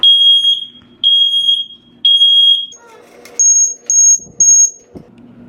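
A smoke alarm triggered by broiler cooking shrills in three long, loud beeps, then four shorter, higher chirps, with faint kitchen clatter in the pauses.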